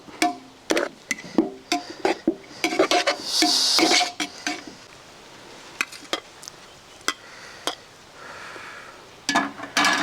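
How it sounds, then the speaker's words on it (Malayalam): Rice being mixed in a pot for broiler chicken pressure-cooker biryani, with repeated metallic clinks and scrapes of a utensil against the pot in bursts, close and fairly loud, with a brief rushing stir in the middle. "ഈ റൈസ് നമുക്കൊന്ന് നന്നായിട്ടൊന്ന് മിക്സ് ചെയ്യാം"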